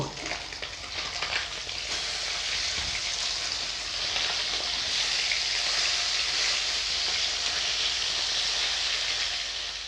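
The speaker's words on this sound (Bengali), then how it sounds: "এবারে মাছগুলো ভেজে নেবো" Steady, loud sizzling of fish frying in hot oil, a continuous crackling hiss with no voices.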